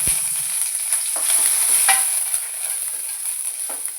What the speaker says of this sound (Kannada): ಮೆಣಸಿನ್ಕಾಯಿ ಹುರ್ಕೊಂಬ ಟೈಮ್ಗೆ ಸ್ವಲ್ಪ ಎಣ್ಣೆ ಹಾಕ್ಕೊಂಡು ಹುರ್ಕೋತೀನಿ